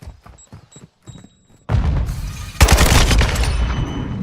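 AK rifle fire in Modern Warfare, starting with a few soft thuds and then a loud sustained automatic burst that grows even denser halfway through, close and harsh.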